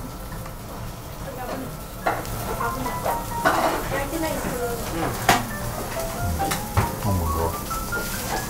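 Food sizzles loudly on a hot plate, a constant crackling fry broken by scraping and clinks of utensils, with people talking and exclaiming over it.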